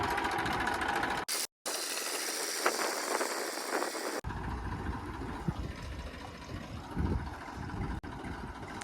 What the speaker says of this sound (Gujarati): જો ભાઈ ટ્રેક્ટર ચાલુ થઈ ગયું હોય